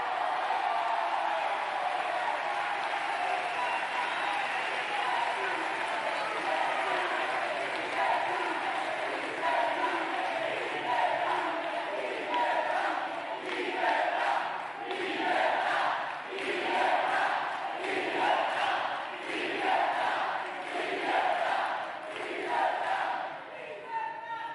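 Crowd in the Argentine Congress during a Javier Milei address applauds and shouts, a dense, sustained roar of many voices that swells into rhythmic clapping and chant-like pulses in the second half.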